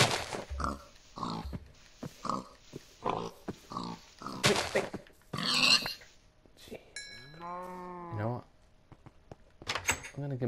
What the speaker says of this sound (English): Let me just kill a few pigs.